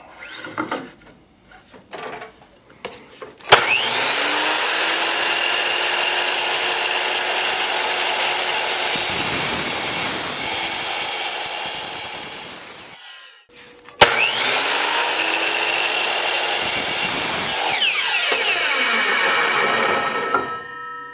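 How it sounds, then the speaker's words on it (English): Electric miter saw powered up with a freshly changed laser battery, spinning up loudly to a steady whine, winding down after about nine seconds, then starting again for another sustained run. "Now we'll plug our saw back in and we'll see how it works."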